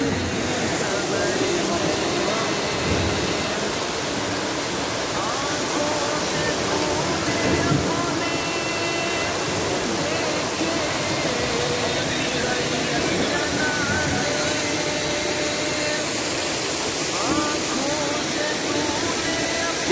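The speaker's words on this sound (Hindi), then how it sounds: "और ये झरने, झरनों से लुत्फ़ अंदोज़ होते हुए" Indoor waterfall inside Bangalore airport, a loud, steady rushing spray of falling water that fills the whole stretch, with people talking beneath it.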